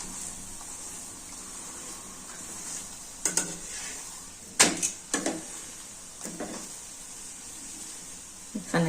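Chapatis fry in oil on a hot pan under a steady, close sizzle, broken by a few sharp scrapes and knocks as they are pressed and turned, with no voices.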